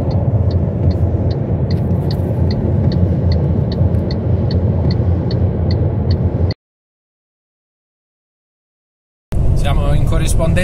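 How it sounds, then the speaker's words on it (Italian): Steady motorway traffic rumble heard from inside an electric car on an Italian autostrada, a continuous loud road drone with a regular ticking pulse, cutting out to silence partway before resuming. "Guarda che traffico."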